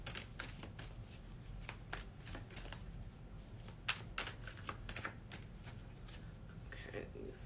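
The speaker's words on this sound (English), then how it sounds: "I'm pulling from the Daily Crystal Oracle. I'm going to pull us a card" Oracle cards from a Daily Crystal Oracle deck being shuffled by hand, a close run of rapid riffling flicks and soft slaps under a quiet spoken voice.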